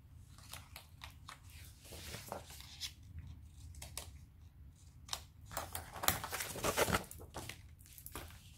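Scissors snipping the corners of a paper flap for a scrapbook photo album, a quick series of close, crisp cuts and clicks with brief pauses, louder toward the end.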